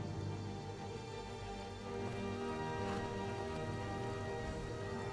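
Steady rain pours through the Skyrim game world under dark clouds, a dense continuous hiss with a low rumbling bed and a brief swell near the middle, with no voices over it.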